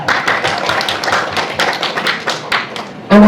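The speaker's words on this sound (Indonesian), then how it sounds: "Bolehlah ya pakai tepuk tangan biar seru dikit ya." Guests clap by hand at an akad nikah wedding ceremony, making a steady patter of fairly close claps for about three seconds before a voice cuts in.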